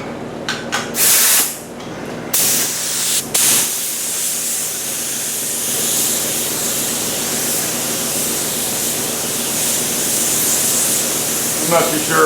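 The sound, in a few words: spray gun applying a coat of paint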